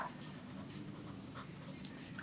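Pen writing an English sample sentence on paper: faint, close scratchy strokes with soft intermittent swishes, quiet and steady throughout.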